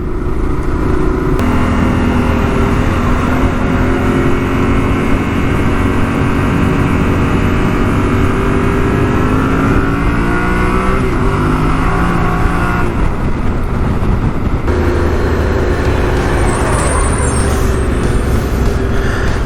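Two Yamaha Tenere 700 adventure motorcycles riding through hills into a town, with a steady, loud engine drone and wind rush that holds for the whole stretch, shifting slightly in pitch as the bikes change speed.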